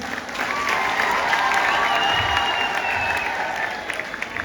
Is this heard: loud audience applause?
yes